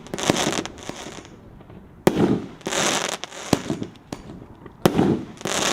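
Black Out consumer fireworks burst outdoors in repeated crackling volleys with sharp reports, rising and falling for several seconds at a moderate distance.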